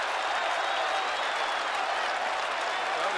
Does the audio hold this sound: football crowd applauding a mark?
yes